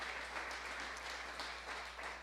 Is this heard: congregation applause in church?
yes